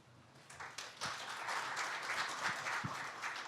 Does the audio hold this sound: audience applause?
yes